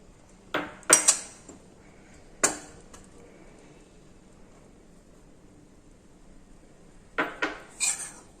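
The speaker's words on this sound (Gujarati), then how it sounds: "હવે આપણે લોટ એડ કરી દઈશું।" Ghee warming in a pan as gram flour is added for ladoo, heard as a few sharp metal clinks of a spoon against the pan with quiet gaps between, then a final cluster of clatters.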